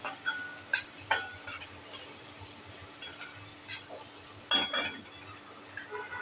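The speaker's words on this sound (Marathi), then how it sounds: "आता हा कांदा थोडासा मऊ होऊ द्या, परतून घ्यायचा आहे कांदा" Chopped onion sautés in a pan for a buttermilk upma, with a soft, quiet sizzle broken by several sharp clinks and scrapes of a spoon stirring against the metal.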